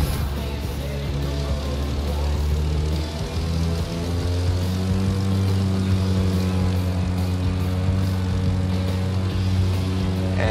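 A plane flying over the city in the video game The Crew 2, a steady propeller-engine drone with a strong low hum and rising harmonic tones, continuous and fairly loud with no voices.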